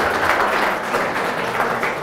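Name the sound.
applause for volleyball player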